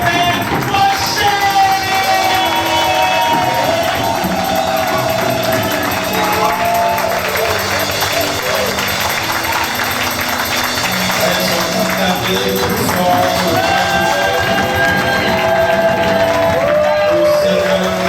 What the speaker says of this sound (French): sur vos ovations et vos acclamations